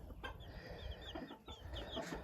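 Backyard hens of mixed breeds, including Wyandottes, clucking softly at close range in short repeated calls over low ambient noise.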